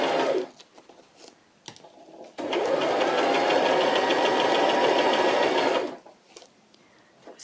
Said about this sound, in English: there's so much sewing on this, it won't notice that there's a bit of jaggedy sewing going on